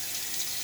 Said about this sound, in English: I'm going to rinse to make sure.